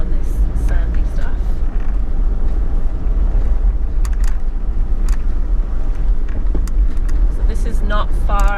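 Car driving along a sandy bush track through pine plantation near Rosedale, Victoria, with a steady loud engine and road rumble throughout, a voice talking over it.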